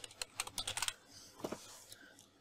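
Quiet typing on a computer keyboard: a quick run of about a dozen sharp key clicks, then a few scattered taps after a short pause.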